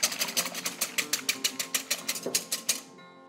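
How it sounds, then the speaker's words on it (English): A couple of eggs whisked in a bowl until frothy for a pecan pie filling, heard as a quick, steady run of light tapping strokes, close and fairly loud, stopping abruptly near the end. "You want to just whisk these up just for about a minute until they're really frothy."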